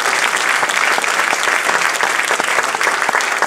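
A church congregation claps hands together during a worship service, producing dense, loud, continuous clapping that holds steady throughout with no clear voices.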